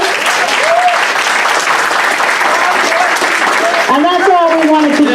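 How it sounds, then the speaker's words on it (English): Sustained applause from a town meeting audience fills the room with dense, steady clapping, with voices calling out over it near the end. "By a round of applause, let me know if you found this useful."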